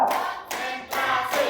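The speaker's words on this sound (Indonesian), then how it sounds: "Tepuk satu. Tepuk dua. Tepuk tiga. Tepuk empat." Hands clap in a counted sequence during a teacher-training session at an Islamic boarding school, four close, loud claps spaced about half a second apart with a clear, steady rhythm.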